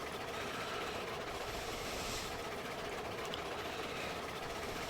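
A Climax geared steam locomotive labors steadily in the video game Railroads Online, with continuous heavy chuffing and rumbling throughout and no gaps.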